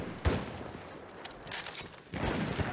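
Battlefield 1 multiplayer gunfire in a snipers-only match: a sharp, loud shot at the start, then sustained crackling fire and another heavy burst near the end, dense and fairly close.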